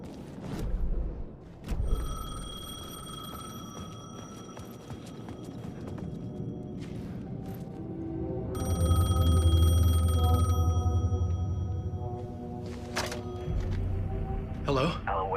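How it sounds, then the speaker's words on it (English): A payphone rings in Alan Wake 2 on PlayStation 5, its bell tones repeating in several bursts over a low rumbling game ambience. "The payphone was ringing."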